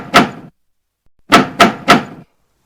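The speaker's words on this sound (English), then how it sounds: "the kids heard a knock on the front door" Knocking on a front door: one loud knock, a pause, then three quick knocks in a row, close and crisp with silence between.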